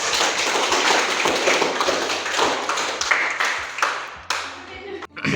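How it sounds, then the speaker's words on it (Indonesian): Steady applause from a classroom of students, many hands clapping together continuously before it tapers off near the end. "Sekarang tepuk tangan untuk kita semua."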